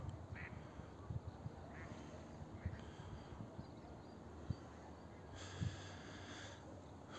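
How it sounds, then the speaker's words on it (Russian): Wild ducks sitting on open water near flooded footbridges, giving scattered quacks at a moderate distance over a steady outdoor background hiss. "То все дикие утки."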